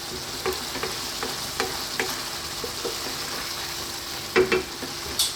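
Chili and turmeric fry in a pan with oil for a red kidney bean curry, giving a steady sizzle broken by several stirring scrapes and taps, and a louder clatter near the end.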